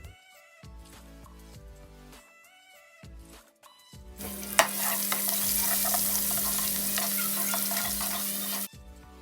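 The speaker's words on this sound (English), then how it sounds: "Onions are frying" A few seconds of quiet clinks and a faint mew give way to loud, steady sizzling and crackling of onions frying in oil, continuing until it cuts off near the end.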